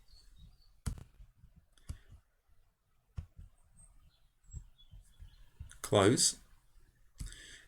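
Mouse clicks at a computer running FreeCAD, several crisp isolated clicks spaced about a second apart, close and clear, with a brief louder burst near the end and faint speech around them.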